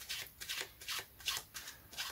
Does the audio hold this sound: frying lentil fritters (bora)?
no